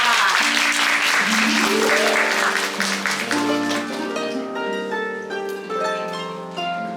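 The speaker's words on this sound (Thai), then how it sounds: "ขอเสียงปรบมือด้วยค่ะ" Guests clap at a Thai engagement ceremony, applause running under loud sustained musical tones and voices that fill most of the clip.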